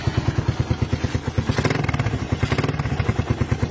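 Motorcycle nicknamed Lucy fitted with an Indo exhaust pipe, idling with a steady, close, rapid thumping pulse, briefly blipped to a quicker, rougher rev twice before settling back to its even idle beat.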